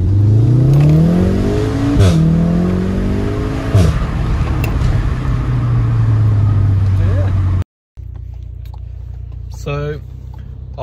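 A Volkswagen Golf R with a resonator delete revs hard up through each gear, its loud exhaust rising in pitch and dropping at every upshift with sharp cracks between, then a quieter passing engine after a brief cut.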